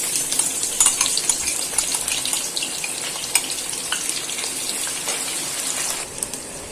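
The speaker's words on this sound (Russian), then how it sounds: "Пока лук жарится" Onion fries in oil in a pan, sizzling and crackling steadily, a dense hiss with scattered pops, close and continuous.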